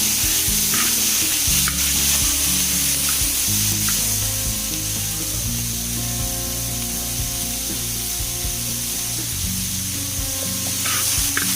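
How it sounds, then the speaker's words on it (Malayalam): Pieces of chicken, a kilo of them, sizzle and sputter in a hot pan as they are sautéed for a coconut-milk chicken stew, with a steady loud fry and intermittent stirring scrapes throughout, no voices. "ഇനി നമ്മൾ കട്ട് ചെയ്ത് വെച്ച 1 കിലോ ചിക്കനെ കൂടെ ഇതിലേക്ക് ഇട്ട് കൊടുക്കാം."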